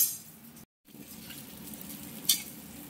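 Boiled pasta tipped into a sizzling pan and stirred with a utensil, a steady close frying hiss with scraping, one brief clink near the end, no talking.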